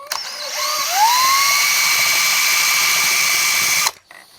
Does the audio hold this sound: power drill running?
yes